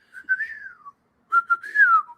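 A person whistles an imitation of a whippoorwill call, two clear, close phrases of sliding pitch separated by a short pause, with no other sound.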